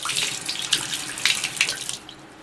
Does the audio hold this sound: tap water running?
yes